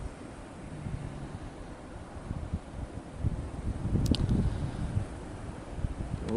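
Steady breeze at the Westcott overlook above Henderson Bay on Lake Ontario, a low continuous rush buffeting the microphone with gentle swells and no voices.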